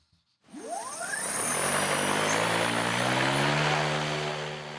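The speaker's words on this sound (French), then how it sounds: "seul l'hélice fendant l'air produit du son" Electric paramotor in flight, its propeller slicing the air as it swoops in from quiet, rising quickly into a loud, sustained whooshing hum with a clear pitched tone that holds and fades slightly toward the end.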